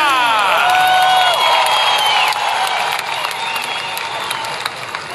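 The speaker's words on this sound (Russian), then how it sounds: "Ваши аплодисменты." A large arena crowd at a Luzhniki world-title fight night applauds and cheers loudly, with whistles and whoops over dense clapping that eases slightly toward the end.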